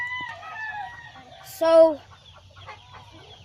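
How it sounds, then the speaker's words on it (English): Chickens clucking and a rooster letting out a brief crow on a chicken farm, close by, with someone speaking a word over the birds. "I mostly work with all these chickens."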